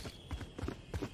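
Quick footsteps in a Valorant match, a few soft, rapid thuds close by in a brief burst.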